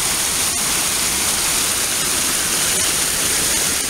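River water flowing at the water's edge, a loud, constant rushing hiss close to the listener with no talk.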